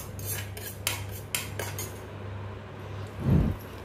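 In a kitchen, bhindi and potato sabji with Kashmiri red chilli powder is stirred in a kadai off the heat, giving several sharp metallic scrapes and clinks of a spoon against the pan, then a soft thud.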